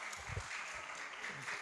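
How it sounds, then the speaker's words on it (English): Audience applause at a kindergarten graduation ceremony for a preparatory school, a short burst of steady clapping from a crowd, fairly faint and even throughout. "Give him a round of applause, please."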